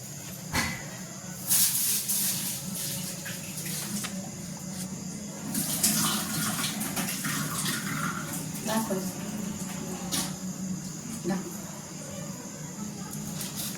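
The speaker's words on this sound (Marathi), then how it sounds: "याच्यामध्ये आता ही डाळ धुवून टाकणार आहोत" Dal is washed in water in a cooking pot, with repeated sloshing, swishing and splashing bursts of water over a steady background hiss.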